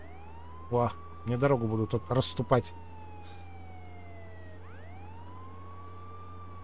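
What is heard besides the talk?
police car siren in the video game Contraband Police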